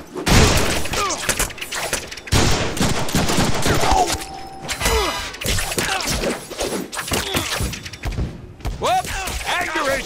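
Gunfire in the Deadpool video game: loud bursts of rapid shots and impacts, with shattering and thuds, come through in waves, and voices talk between and over the shooting.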